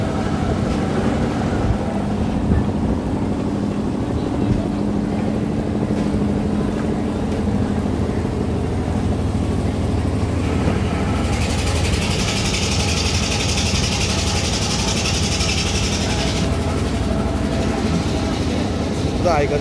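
A boat engine idles with a steady low rumble at a busy fishing harbour in Uran Karanja during unloading, alongside harbour bustle and a brighter hiss that rises midway.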